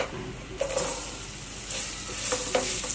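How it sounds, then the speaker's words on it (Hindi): Roughly chopped onions drop into hot oil with spices in a pan and fry, a steady moderate sizzle with a few stirring scrapes and clinks near the microphone. "फौरन से इसमें हम ये कटी हुई प्याज शामिल कर लेंगे।"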